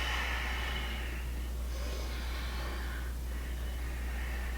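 A slow, audible exhale through the nose during a seated chair yoga session, a soft airy breath swelling and fading twice over a steady low hum, with no talking.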